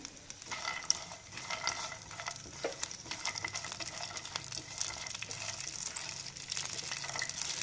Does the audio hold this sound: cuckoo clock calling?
no